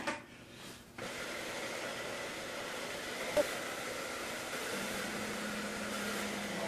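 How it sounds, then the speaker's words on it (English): A steady, broadband rush of blowing air from a heat gun, used on a bike frame for protective film, runs nearly throughout, close and even, with a brief dip near the start and a small click midway. "Get the heat gun out."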